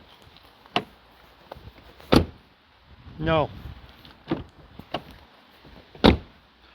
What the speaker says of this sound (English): What about the Golf's famous door shut sounds?